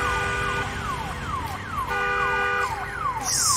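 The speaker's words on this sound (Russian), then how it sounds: "где тачка-то, которая сигналит?" Repeating descending electronic siren-like wail of a car alarm in the post-apocalyptic game Days Gone, loud and steady, cycling about every half second with a few background impacts and a burst of noise at the end.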